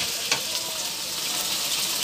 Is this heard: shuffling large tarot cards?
no